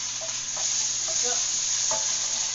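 Frozen meatballs fry in a hot pan with a steady close hiss and crackle, plus a few faint stirring clinks and no voices.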